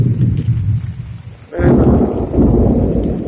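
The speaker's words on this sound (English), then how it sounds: "Guys, this is the thunderstorm of the century." A thunderstorm in High Point in North Carolina's Piedmont, with a steady wash of heavy rain that swells loud as a crack of thunder breaks midway and rumbles on under the downpour.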